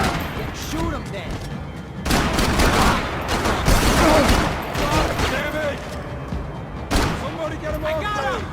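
Gunfire in a Max Payne video game cutscene: a dense, loud burst of automatic fire and impacts through the middle, with a voice speaking before and after and another sharp shot near the end.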